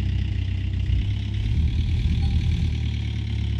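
Vehicle engine idling in the mining game Gold Rush The Game, a steady low rumble holding even and loud throughout, with no talk over it.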